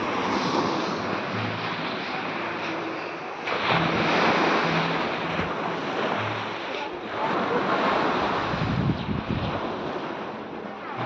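Sea waves wash steadily against the shore at Oriental Mindoro as wind buffets the microphone, with a continuous loud roar and surges of surf.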